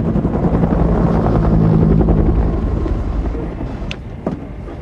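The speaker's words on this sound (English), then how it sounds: "Tell me where you are from the sound of my rotor blades." A UH-1 Huey helicopter's rotor blades thump loud and close in a dense, continuous chop that slowly eases off toward the end.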